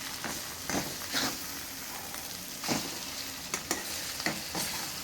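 Onion and egg fry in a pan with a steady close crackling sizzle, broken by a few soft scrapes as the food is turned over, with no talk.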